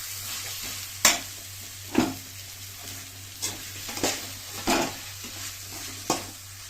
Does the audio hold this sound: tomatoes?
yes